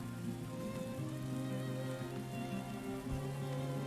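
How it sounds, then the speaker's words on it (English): A light spring drizzle in the Farthest Frontier town-building game, a soft, steady patter of rain heard under sustained background music. "a nice little drizzle"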